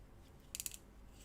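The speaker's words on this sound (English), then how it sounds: "And I'll just sharpen the tip of my pencil." A pencil tip is twisted in a small handheld sharpener: a short, quiet burst of scratchy grinding lasting about a quarter second in an otherwise hushed room, with no talking.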